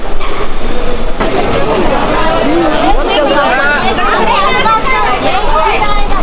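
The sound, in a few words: local train at station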